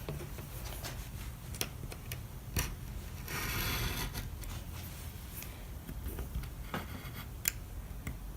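Scissors snip small pictures for fused glass jewelry, giving a few soft, separate close clicks and crisp cuts over a quiet background.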